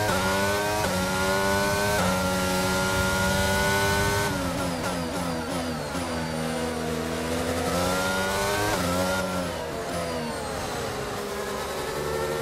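A Formula 1 race car at the British Grand Prix accelerates, its engine howling and rising in pitch, then dropping sharply at quick gear shifts before climbing again. The sound is loud and continuous for about twelve seconds.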